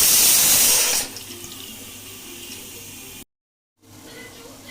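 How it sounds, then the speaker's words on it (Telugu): Water pours into a pot of mutton curry as a strong gush that drops to a softer, steady trickle before stopping briefly and resuming, with no talking. "జస్ట్ 1/2 గ్లాస్ వాటర్ వేసేస్తాం."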